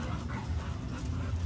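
An American bully dog pants steadily and close by, a soft continuous breathing rhythm with no talk over it.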